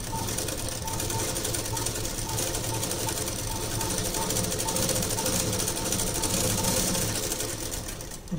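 An electric sewing machine runs continuously while stitching a neat quarter-inch seam along the edge of bias tape, giving a loud, even, rapid mechanical whirr and clatter that lasts throughout without pauses.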